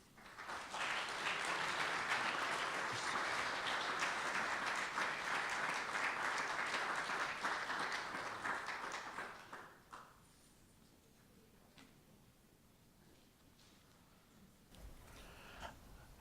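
An audience welcoming speaker Stanley Hauerwas breaks into loud, dense applause that holds steady for about ten seconds, then fades away to quiet room tone.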